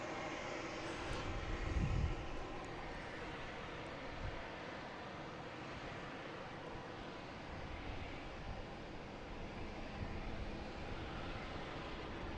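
American Airlines airliner at Boston Logan International Airport, a steady broadband jet roar that holds at a constant level throughout, with a brief swell near the start and no talk.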